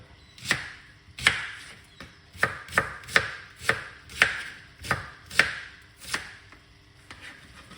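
A knife chops a white onion on a cutting board in a series of about a dozen crisp, close thuds at an uneven, quick rhythm, with no other sound in between.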